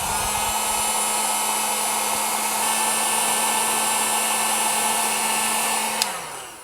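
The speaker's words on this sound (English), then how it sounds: "I use a heat gun, and this is just a cheap heat gun from Harbor Freight" A cheap Harbor Freight heat gun blows steadily on a soft plastic swimbait mold, a loud continuous airy roar with a fan hum that runs unbroken and then winds down after a click near the end.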